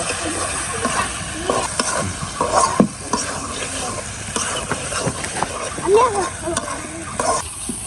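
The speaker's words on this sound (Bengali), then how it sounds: "পটলগুলো এখন মশলার সাথে একটু ভেজে নেব" Chopped pointed gourd frying with spices in a pan, a steady sizzle with scraping stirs and occasional spatters, close and fairly loud throughout.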